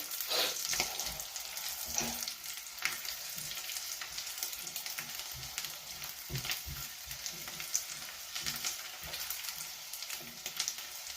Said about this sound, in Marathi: मातशें फ्राय करून घेवपाचें